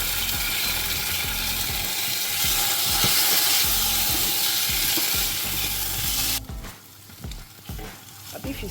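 Beef sizzles and fries loudly in a pan with beef stock, a dense steady crackle with stirring scrapes throughout, dropping to a quieter simmer near the end.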